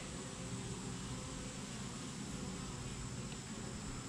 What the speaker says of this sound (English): Let me get a little smoke on these guys. They're a little buzzy.